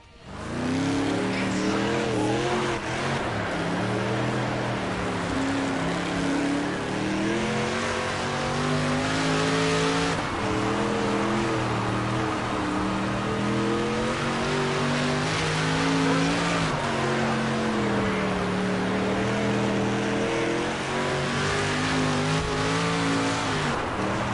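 A street stock race car from a dirt track racing game runs a full lap, its engine droning loudly and continuously. Revs rise and fall in repeated waves through the corners, with occasional tire scrub.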